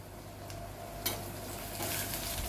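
Homemade masala, coriander powder and turmeric sautéed on a low gas flame, a soft, steady sizzle with a couple of light spoon scrapes against the pan, quiet and close with no speech.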